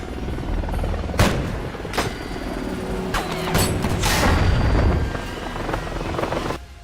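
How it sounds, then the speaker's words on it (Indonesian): A helicopter roars loudly and steadily while a few sharp bangs and impacts cut through as it is shot down, the rotor noise cutting off abruptly at the end. "Swigger berhasil menembak jatuh heli tersebut"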